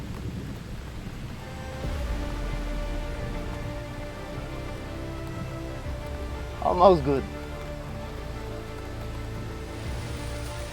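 Heavy rain falls steadily on an outdoor wilderness campsite, a dense continuous wash with a low rumble, while someone speaks briefly over it near the middle.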